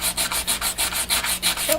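A wooden edge being beveled with 180-grit sandpaper, loud close rhythmic back-and-forth rasping strokes, about ten in a steady cycle.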